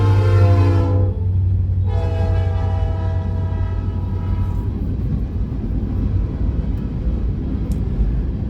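A train rolls in within the Saints Row 3 video game, its horn sounding in a steady multi-tone blare for about a second, cutting out, then returning and fading over a constant low rumble of rail noise.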